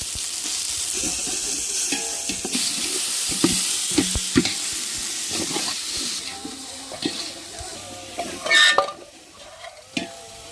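Vegetables fry in a pan with a loud, busy sizzle, broken by frequent scraping stirs and metallic knocks of a spoon against the pan.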